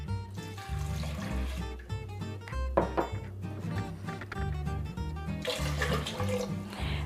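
Two cups of water poured into a cooking pot holding butternut squash and golden raisins, a continuous splashing, gurgling stream that runs close and steady for several seconds with no talk over it.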